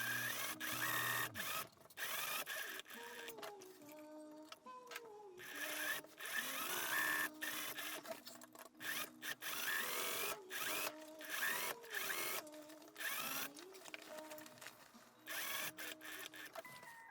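Sewing machine stitching seams on a trench coat, a close, uneven mechanical whir in short bursts and stops, with music playing throughout underneath.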